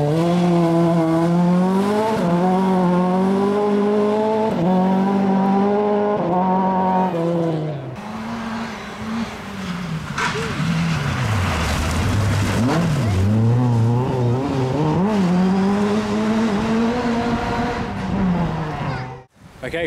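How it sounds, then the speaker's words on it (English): Rally cars tear along a loose-surface forest stage at Malton Forest Rally, engines revving hard and rising and falling in pitch as they pass close by, with a near-continuous loud roar and voices talking underneath. "When these cars are flying down here at high speed on a loose surface"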